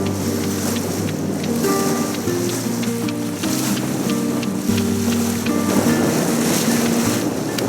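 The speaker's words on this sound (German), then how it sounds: "Wir sind jetzt aber gerade hier am Raussegeln." A sailboat sailing out of a Norwegian fjord past shallows and islands in summer, with steady wind and water rushing along the hull, continuous and close, plus a low droning hum throughout and no talk.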